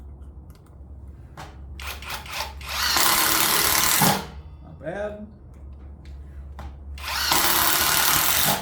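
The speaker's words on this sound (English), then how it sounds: "Let's drill in a couple of standard 2-inch screws here" A Greenworks 24V cordless drill whirs in two sustained bursts as it drives 2-inch construction screws into wood, with brief clicks between runs and a short spoken remark.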